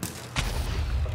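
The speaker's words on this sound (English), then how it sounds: "Oh, I guess it's probably an explosion." An explosion goes off in the tower-defense video game Cake Defense II, a sharp burst followed by a sustained low, rumbling boom that holds steady to the end.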